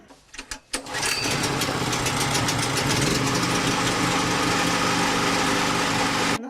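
A generator engine for an apartment building's heating starts with a few sputters, then runs loud and steady, with a close, even mechanical roar and no talk.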